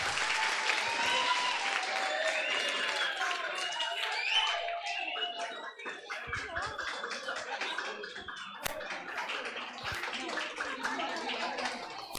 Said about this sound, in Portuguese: Uma salva de palmas para os voluntários